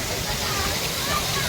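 Water rushes and splashes steadily along the river of a water park at a pirate-themed hotel in Agde, a dense broadband wash with a murmur of voices blended in.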